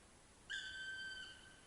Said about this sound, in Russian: Самый крупный дятел в России. Черный. Красный хохолок у него на башке. И вот так он кричит.